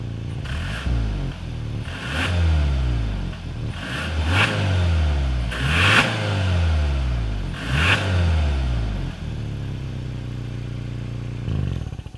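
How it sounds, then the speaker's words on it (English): Exhaust of a 2022 Hyundai Santa Fe: a start-up followed by several repeated revs, each a rising engine roar that drops back to idle, heard close at the rear with no talking. "Then, as always, here is that exhaust clip."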